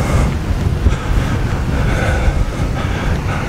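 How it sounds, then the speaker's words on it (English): Steady wind buffets the microphone on an open golf course, a continuous low rumbling roar with gusty swells that runs unbroken from start to finish with no talking. "Still quite windy, wind's in my face."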